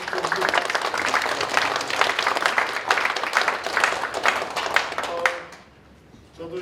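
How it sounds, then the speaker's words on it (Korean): An audience at a Korean National Assembly policy forum applauds a professor, brisk clapping that holds steady for about five seconds, then cuts off into quiet room tone. "다시 한번 우리 조승규 교수님께 바로 박수 좀"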